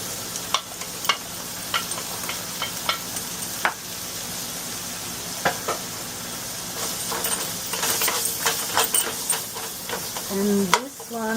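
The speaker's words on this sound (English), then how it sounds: "Now to this one I'm going to put 1 large onion, 5-6 cloves of garlic chopped, and a big like 1-inch chunk of ginger chopped. I'm going to roast all this." Chopped onion, garlic and ginger roasting in a pan with very little oil, a soft continuous sizzle punctuated by light scraping and stirring clicks, fairly quiet and close throughout.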